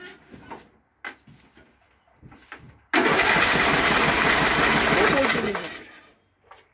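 A few short mechanical clicks and rattles, then a John Deere riding lawn mower engine catches and roars steadily for a few seconds before shutting down.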